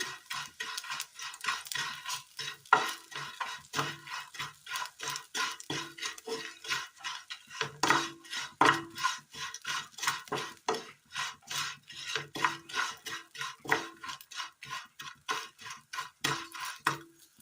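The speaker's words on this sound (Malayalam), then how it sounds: "ഇതൊന്ന് വറുത്തെടുക്കാം." Repeated scraping and stirring taps of a spatula as vermicelli roasts in a little oil in a pan, a steady rhythmic clatter close up with a faint sizzle.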